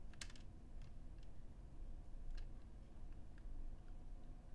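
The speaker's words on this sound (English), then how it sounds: "Might be able to hear the hard drive clicking away." A computer hard drive clicking during first boot after a fresh Arch Linux install, quick faint ticks scattered over a steady low hum, with no one talking.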